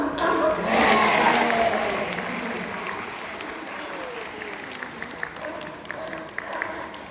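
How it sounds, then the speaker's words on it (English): Audience applause for a sea lion catching a ring at a safari park show, a loud burst of clapping and cheering that swells early, then thins into scattered claps for several seconds. "do give him a little round of applause for me"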